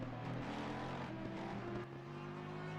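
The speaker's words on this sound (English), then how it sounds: "I love how that Lexus sounds" A Lexus GT race car engine in a sim racing endurance event at the Hungaroring, heard as a loud, continuous, beefy drone at steady revs with a brief dip in level partway through.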